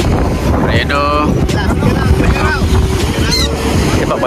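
Strong wind buffeting the microphone on a beach by the sea, a loud continuous roar with surf in the background, while high bird calls, probably macaws, cut through in short bursts.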